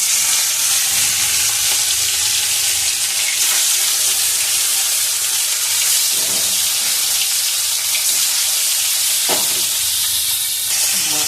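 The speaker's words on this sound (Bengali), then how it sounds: "মাছটা ভাজা হচ্ছে" Fish pieces, silver carp for a tamarind curry, frying in hot oil in a pan, a loud continuous sizzle and crackle that stays steady throughout with faint occasional clatter, close up and with no talk.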